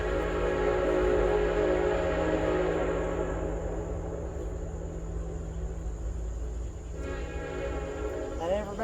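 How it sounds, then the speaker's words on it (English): A train rumbles past, with a steady low roar and a brief horn-like tone toward the end. "Let's let the train go by."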